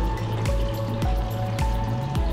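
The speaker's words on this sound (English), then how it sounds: "Wash is just gonna let that sanitizer cycle through the machine." An IceOMatic ice machine runs its sanitizer wash cycle, water steadily trickling and splashing inside while a mechanical tone repeatedly drops in pitch at regular intervals, loud and close with no talking.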